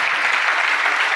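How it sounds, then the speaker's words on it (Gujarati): A devotional gathering's audience bursts into sustained clapping to welcome a family, a dense, even wash of hands with no pauses and no voices over it. "મુક્તો જરા તાળીથી વધાવીએ આ પરિવારને"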